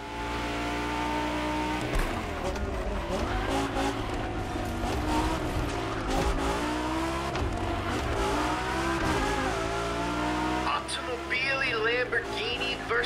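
Lamborghini and Ferrari race cars in The Crew Motorfest, engines roaring steadily with rising and falling revs throughout, loud and close, with a tire squeal or effect burst near the end.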